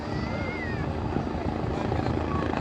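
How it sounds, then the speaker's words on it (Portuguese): A military helicopter flies over flooded countryside, its rotor chop a loud, dense, continuous thrum that holds steady for the whole moment, with faint speech mixed in. "Esse é, parece que é helicóptero militar, não sei."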